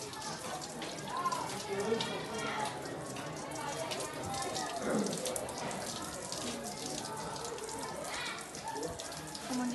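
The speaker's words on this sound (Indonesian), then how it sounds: "Setelah itu siram menggunakan air bersih." Water is poured steadily to rinse a body during a demonstration of Islamic corpse washing, a continuous splashing flow that runs throughout the clip with faint voices underneath.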